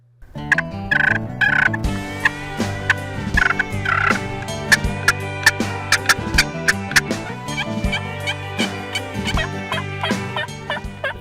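Wild turkey gobbling and calling, loud and close, with a steady stream of rapid clucking and repeated gobbles throughout, no talk.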